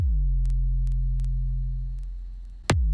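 A deep, sustained 808 sub-bass note, a low F0, booms and slowly fades, then a sharp click transient strikes and a new low note starts; faint ticking sounds sit above it.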